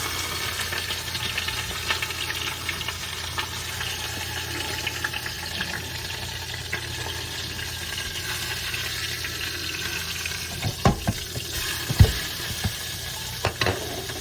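Beef browns in a hot pan for a slow cooker Korean beef dish, giving a steady close sizzle and fry crackle, with a few sharp clatters of stirring or flipping near the end.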